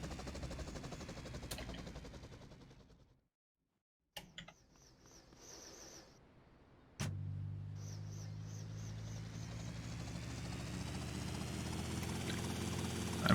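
Helicopter rotor drone from a video game speedrun: a buzzing engine wash drops out briefly, returns faint, then comes back loud and steady, with sharp clicks and bangs breaking through.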